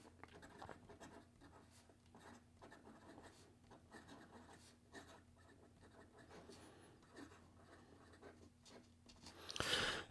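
A Cross Peerless 125 fountain pen nib scratches across paper in a quiet run of short strokes and pauses, faint and close, with a brief louder rustle at the end.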